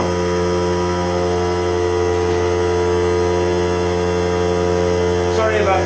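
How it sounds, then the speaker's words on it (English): A small air compressor runs continuously close by, a loud, steady motor hum with a droning buzz that holds unchanged for the whole stretch. "Sorry about the noise of the compressor."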